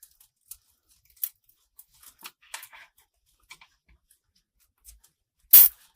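A plastic zip tie is worked around a grapevine wreath, giving sparse, faint ticks and clicks, then a sharp, louder ratcheting zip near the end as the tie is pulled tight, in an otherwise quiet room.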